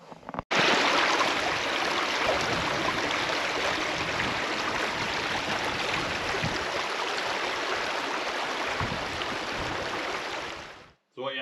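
A river stream in the North Pennines flows steadily with a loud, continuous rushing wash close by, unbroken for about ten seconds before it cuts off.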